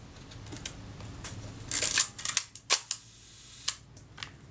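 Servicing an Agfaflex SLR camera, the shutter fires in a series of sharp mechanical clicks and snaps. A cluster comes near the middle, followed by a few spaced single releases, all close and crisp against a quiet background.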